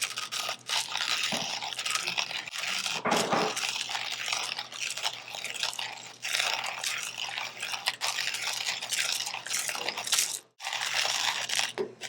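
Coffee beans crunch and crackle in a grinder for AeroPress coffee, a dense, close, continuous grinding noise with brief dips and one short pause near the end, no voices over it.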